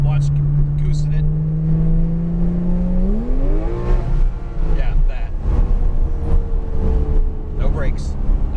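Rear-engined Porsche 911 GT3 on a race track, its engine note droning steadily then rising sharply as the throttle opens, close and loud, with the tone climbing and falling through the run.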